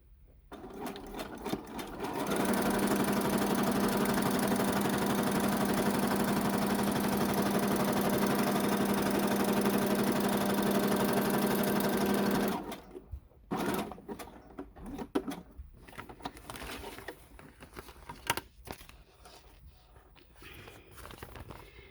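A sewing machine runs steadily for about ten seconds with a fast, even stitching hum, then stops. Quieter handling noises and light knocks follow.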